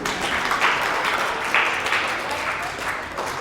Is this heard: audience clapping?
yes